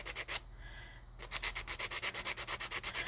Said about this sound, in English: I would recommend the sanding for someone who's maybe not comfortable with the knife.